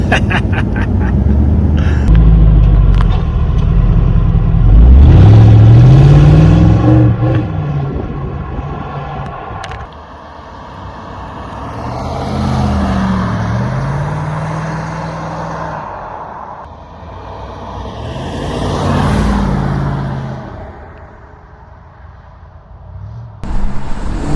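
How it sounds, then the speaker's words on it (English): A 1991 Chevrolet Camaro Z28 V8 revs up loudly, then drives past in surging waves of engine roar that rise and fade several times, rumbling close by. "we've just been out in the Camaro"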